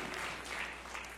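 Applause from a church congregation, a soft, distant wash of clapping that stays fairly even for about a second.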